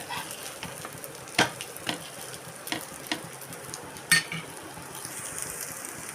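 Sabudana thalipeeth sizzles softly on a pan, a quiet steady fry broken by a few sharp utensil clicks and taps, with no voices.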